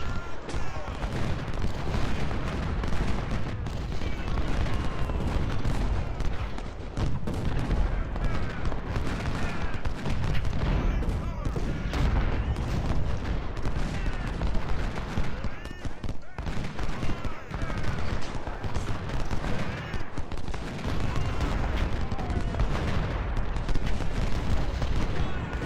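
Dense, continuous Civil War battle din in Ultimate General: Civil War around the Chancellorsville and Salem Church fighting, with artillery booms and musket fusillades rolling together at steady loudness, voices talking over the gunfire throughout.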